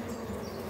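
Honeybees buzz at a hive during treatment for chalkbrood disease, making a continuous, close, even drone with no voices present.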